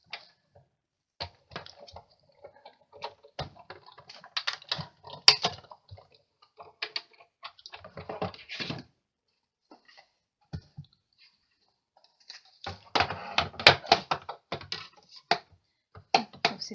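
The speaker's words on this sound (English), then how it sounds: "I'm just going to run that then through my big shot." A Big Shot die-cutting machine runs an acrylic plate sandwich through its rollers, giving irregular clicking and ratcheting bursts separated by short pauses, close and fairly quiet.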